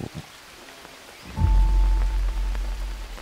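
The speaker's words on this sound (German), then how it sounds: "schön, auch wie der Regensound sich hier drin ändert" Steady rain falls in the video game Green Hell, heard from inside a tent, starting faint and swelling into a loud, even patter with a low rumble beneath.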